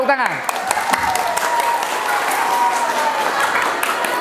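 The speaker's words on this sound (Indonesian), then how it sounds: "Ya, bagus, tepuk tangan." Audience at an Islamic religious lecture clapping steadily, a loud, close patter of many hands with a brief voice and a falling tone at the start.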